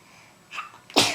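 A baby gives a single sharp sneeze near the end, preceded by a softer breathy catch, close and clear against a quiet indoor background.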